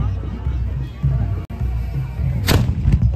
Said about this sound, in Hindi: ये छोटी वाली तोप है, ये तो लगातार छोड़ी जा रही है